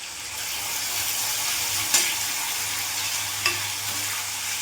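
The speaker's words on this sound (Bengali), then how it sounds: "ওলটা ভাজা ভাজা হয়ে গেছে, এরই মধ্যে আমি এখন মশলাটা পুরোটা দিয়ে দেবো" Pieces of elephant foot yam fry in hot oil with a steady hiss and sizzle, broken by a couple of sharp spatula knocks against the pan.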